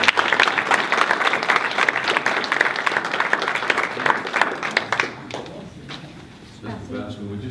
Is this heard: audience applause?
yes